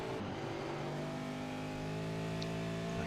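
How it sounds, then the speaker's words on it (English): A V8 race car engine drones loudly and steadily, holding a sustained high-revving tone as it works for tyre grip over a rise, a close, continuous roar without talk. "I can certainly hear his car working for tyre grip there as it came just a little bit over that rise"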